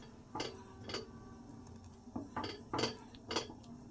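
A spoon scrapes and clinks against a pot while custard is stirred on a low flame. Quiet, evenly spaced metallic knocks come about every half second over a faint background hum.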